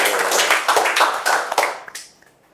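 Audience in a classroom session clapping for two presenters, a short, close burst of scattered hand claps that thins out and stops within a couple of seconds.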